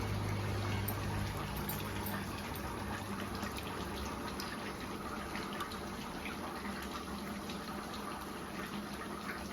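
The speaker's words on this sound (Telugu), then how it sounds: "ఎక్కువ నీళ్లు పోసి గుంజాలి కొత్తిమీర." Water running and splashing steadily as coriander leaves are washed in plenty of water, a continuous gushing wash at moderate level with no talk.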